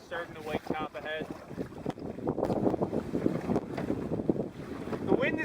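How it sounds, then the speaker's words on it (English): Strong gusting wind buffets the microphone out on open water from a small boat near shore, a loud continuous roar of wind and splashing water with brief voice-like bursts at the start. "The wind is gusting to probably 40 kilometers an hour"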